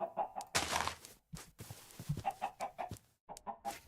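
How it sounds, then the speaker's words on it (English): Chickens cluck and squawk in a Minecraft 1.20.1 adventure RPG modpack, a run of close, loud bursts with short gaps between them and no talking. "Where the fuck is that chicken noise coming from?"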